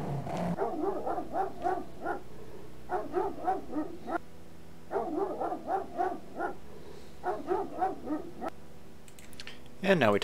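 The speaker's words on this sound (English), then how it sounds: "Good dog. Nice dog." A dog in King's Quest 7 gives four clustered runs of rhythmic, bouncy barks or woofs, separated by short pauses, with a brief louder burst at the end.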